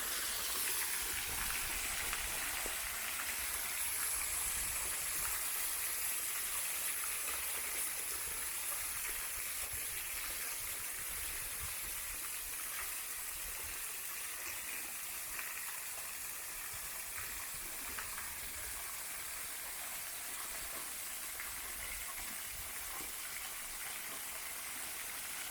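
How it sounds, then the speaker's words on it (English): Water pours over the rocky falls at Shadow Falls Park in St. Paul, Minnesota, a steady broadband rush that holds at an even level for the whole stretch with no talking. "There's definitely a lot more water flowing across here, so somewhere down these falls a lot more water's coming over"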